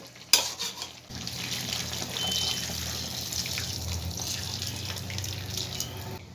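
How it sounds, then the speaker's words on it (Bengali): Warm water pours into a pan of chicken curry with a splash and is stirred in, leaving a steady close sizzle and bubbling with light stirring scrapes. "এবার দিয়ে দেবো ফাইনালি সেই উষ্ণ গরম জল।"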